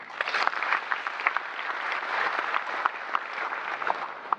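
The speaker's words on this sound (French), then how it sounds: "Et je vous demande de les applaudir." An audience applauds steadily for partner countries during a prime minister's speech, a dense wash of clapping with scattered sharper claps sustained throughout, with no talk over it.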